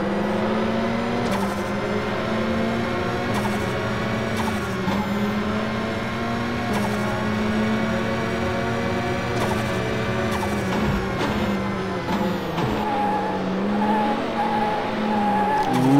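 A rally car in the mobile racing game Rush Rally 2 drives a rallycross stage, its engine droning loudly and continuously with tire skids and squeals over the top and no talk.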